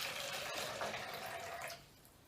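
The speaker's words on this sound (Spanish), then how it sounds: "¿Qué pasa si a uno le echamos agua" Water is poured into one of two identical glasses in a steady, close stream that runs for most of the moment and then stops abruptly, with no talking.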